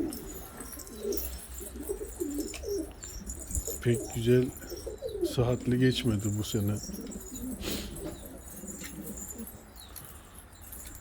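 Pigeons coo softly in repeated low, throaty calls, with someone talking over them and occasional wing flutters nearby.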